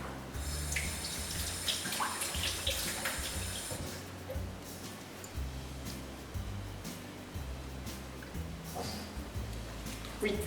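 Tap water running steadily into a cooking pot for boiling, a continuous rushing splash with a low hum underneath, close by and without talk.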